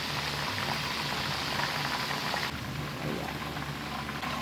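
Whole chicken deep frying in oil on its first fry, a dense, steady bubbling hiss like heavy rain that holds for a few seconds, with one short spoken word.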